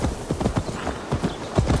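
Horse hooves clip-clop steadily in Assassin's Creed Valhalla, a quick, close, even rhythm of hoof strikes over a soft ambient bed.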